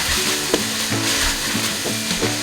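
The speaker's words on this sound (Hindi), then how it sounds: "3 से 4 मिनट इसकी अच्छे से फ्राई करनी है" Boiled boneless beef frying in oil for yakhni pulao, a close, steady sizzle broken by repeated scraping strokes of a spoon against the pot at an even pace, no voices.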